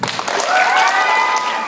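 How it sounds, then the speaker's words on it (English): Students and families give a rhythmic power clap at a school fall awards ceremony, producing a loud, dense burst of clapping that builds and holds steady with some cheering voices mixed in. "Power clap for 6th grade"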